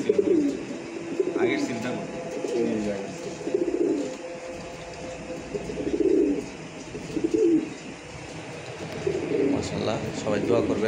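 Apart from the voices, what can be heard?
racing pigeons cooing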